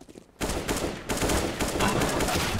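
Rapid gunfire in Counter-Strike: Global Offensive breaks out after a short quiet lead-in and keeps up as a dense, loud rattle of shots for the rest of the moment.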